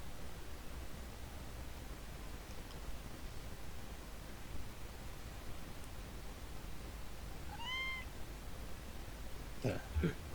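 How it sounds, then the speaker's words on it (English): A cat gives a faint, brief meow partway through, followed later by a couple of quick higher squeaks, all under a steady bed of hiss and room noise. "heard the cat."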